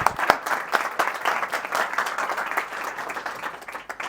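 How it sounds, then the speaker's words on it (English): An audience at a 2023 International Women's Day event in London applauds continuously, a fairly close, even clapping that eases slightly toward the end. "Let's give her a round of applause"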